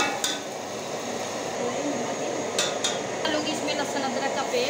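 Garlic ginger paste going into a cooking pot with browned onions for mutton karela, with utensil clinks and scraping as it is stirred over a low sizzle, and a voice talking in the background.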